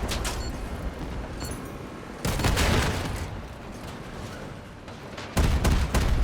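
Cannon and artillery blasts ring out in a video game, with two heavy booms rolling into long rumbling tails amid lighter scattered firing, and no talking.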